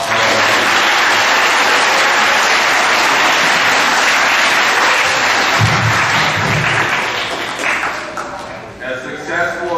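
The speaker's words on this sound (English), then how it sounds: "let's give them all a big round of applause" Audience applause at a school awards assembly, honoring coaches and sponsors: dense, sustained clapping filling the room, loud and continuous, with a few voices mixed in and the clapping thinning slightly toward the end.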